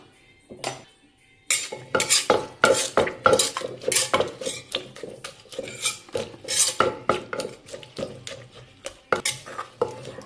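Pineapple salad being pounded in a mortar, with quick rhythmic knocks and scraping clatter of a pestle and utensil, close up and steady for several seconds with no talk.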